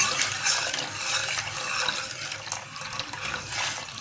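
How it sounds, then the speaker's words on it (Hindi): Water is poured steadily into a gram-flour kadhi mixture for pakora kadhi, a continuous splashing pour with faint clinks, close and fairly quiet. "अब हम इसमें पानी ऐड करने लगे हैं।"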